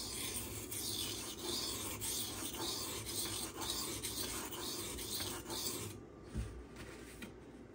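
Steady rasping strokes of a Spyderco Manix blade in CPM 15V steel sharpened on a stone at a low angle, a continuous close scraping rhythm that stops near the end with one soft knock.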